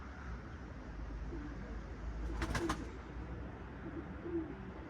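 Soft pigeon coos in a brief cluster midway through, from an office-yard coop, set against a constant low outdoor rumble; no talking.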